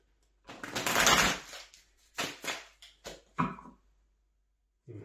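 Tarot cards are shuffled by hand in several bursts of riffling and slapping, close and fairly soft, separated by short pauses with no talk over them.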